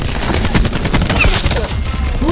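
Rapid automatic gunfire in Call of Duty: Black Ops 4 Team Deathmatch, loud close bursts of dense repeated shots with a brief lull, then more firing.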